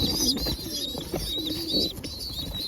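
A pigeon coos close by in a short, soft, throaty burst, with faint higher chirps from other birds around it.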